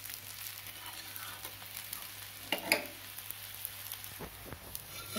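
Poochha puri, a Bihari fried bread, cooks in ghee in a pan, giving a faint, continuous close-up hiss with a few soft crackles and a brief louder flare as it is flipped.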